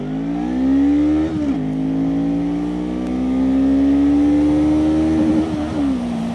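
A Voge CU525 cruiser motorcycle accelerates hard along a straight road. The engine note climbs steadily, dips briefly at each of two gear shifts, then climbs again, loud and close throughout.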